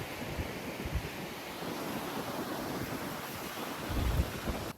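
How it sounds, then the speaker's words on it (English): Steady sea breeze buffets the microphone over a soft, continuous wash of surf on a beach where a car is parked, with a slightly louder gust or wave near the end; no voices. "the breeze is lovely"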